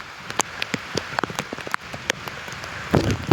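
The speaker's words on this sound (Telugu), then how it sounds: "వర్షం చాలా వర్షం" Scattered raindrops patter and tap irregularly on a nearby surface, fairly close, with a softer wash of heavy rain in the background.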